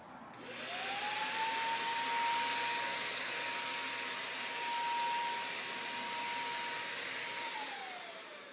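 An electric paint sprayer applies a coat of dark blue paint to a laminate dresser, a steady, loud motorized whine and hiss that runs alone and unbroken for several seconds before winding down.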